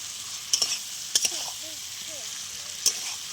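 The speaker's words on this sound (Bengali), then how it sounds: "ভাজা আলুটা দিয়ে দিলাম।" Fried potatoes stirred into sizzling masala in oil for aloo dum, a steady sizzle under a few sharp clinks and scrapes of the spoon against the pan, close up.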